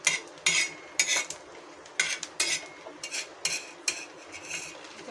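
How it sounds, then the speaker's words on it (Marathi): A spatula repeatedly scraping and stirring coconut roasting in oil on a hot iron griddle, metallic scrapes in a steady rhythm every half second or so, close and fairly loud over a faint sizzle. "तवा गरम झाला की त्यामध्ये 2 चमचे तेल टाकायचं आहे। खोबरं लालसर भाजून घ्यायचं।"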